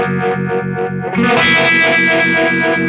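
A guitar runs through an Eastwood Black Box Univibe pedal in chorus mode with drive, giving a loud, distorted, sustained tone with a pulsing, swirling wobble that brightens partway through.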